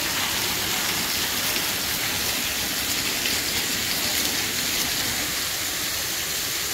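Steady rain falls in an outdoor sculpture park at Kistefos, Norway, a dense, even hiss of drops that holds at the same level throughout with no voices.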